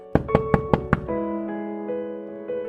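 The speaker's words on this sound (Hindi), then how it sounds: "रात में महिला आश्रय में मदद पाने के लिए दरवाजा खटखटाती है" Five quick, firm knocks on a door at a women's shelter at night ring out loud and close, followed by sustained tonal music.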